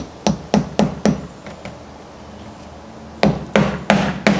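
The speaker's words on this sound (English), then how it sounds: "you take your hammer and then you just go ahead and just nail it on" Hammer driving flat-top roofing nails into a starter shingle on a roof: a quick run of four sharp strikes, a short pause with two lighter taps, then another brisk burst of blows, close and loud.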